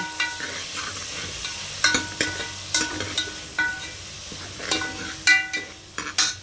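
Two tomatoes and onion sauté in a pan over a steady sizzle, with repeated sharp spatula scrapes and taps against the pan at an uneven pace, close and fairly loud.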